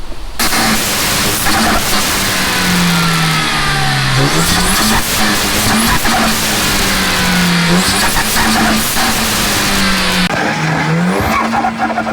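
A car engine fitted with an oversized Ramair intake revs hard and loud, rising and dropping in pitch several times with a rough, airy intake roar and no talking.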